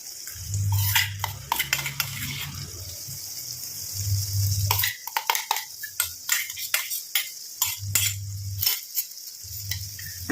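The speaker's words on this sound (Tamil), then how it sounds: "ஆட் பண்ணிட்டு நல்லா அந்த மாதிரி கலந்து விட்டணும் எல்லாமே." Ground hibiscus flower and black cumin paste stirred into oil in a pan, with repeated scraping, clattering utensil strokes over a steady background hiss, broken by short bursts of low rumble.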